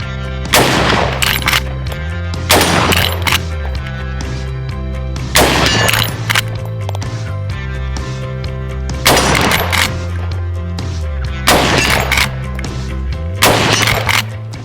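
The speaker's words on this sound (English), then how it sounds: "Today I'm checking out the Marlin 336W Tactical 30-30 lever action rifle" Repeated loud gunshots from a Marlin 336W Tactical .30-30 Winchester lever action rifle, about six sharp reports spaced roughly two seconds apart, each with a ringing tail, heard up close with no talking.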